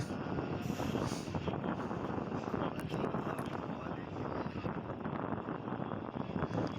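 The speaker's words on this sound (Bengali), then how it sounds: "আমরা দরজাতেই দাঁড়িয়ে হাওয়া খেতে খেতে যাচ্ছি" Steady loud wind rushing past the open doorway of a moving local train leaving Howrah, a continuous broadband roar with the rumble of the carriage beneath it throughout.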